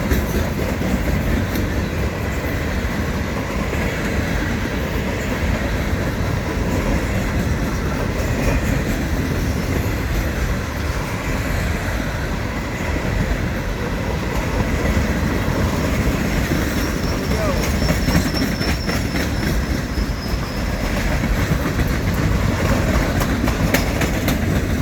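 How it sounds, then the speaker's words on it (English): A long manifest freight train led by four locomotives rolls past at a rail line in Blanchester, Ohio, a loud continuous rumble of wheels and cars with rhythmic clacking and a faint high squeal partway through. "Pretty good sized train."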